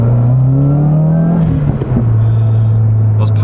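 A protuned 9th gen Civic Si or 2016 WRX accelerates from close inside, its engine drone rising steadily and then settling after a gear change, with a few crackling exhaust pops and a voice talking briefly.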